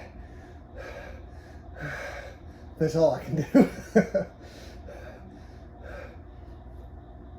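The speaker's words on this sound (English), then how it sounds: "The breathing might be a little dramatic." Heavy, sharp gasping breaths from a person sitting in a chest freezer cold plunge, clustered in a loud burst of quick inhales midway, with someone speaking briefly and softer breathing around it.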